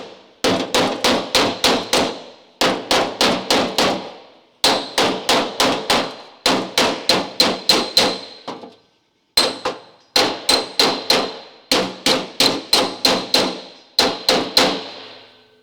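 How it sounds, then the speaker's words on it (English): Rapid bursts of metallic hammer blows crimping sheet metal on a rusty door repair ring out in groups of about six to eight, sharp and close, with short pauses between each group. "we can then just come in and hammer it straight down and crimp it in place"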